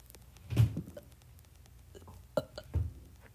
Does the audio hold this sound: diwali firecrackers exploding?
no